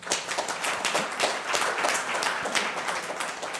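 Audience applause at a New School panel on race and the subprime crisis, a dense, steady patter of many hands clapping throughout, moderately loud with no voices on top.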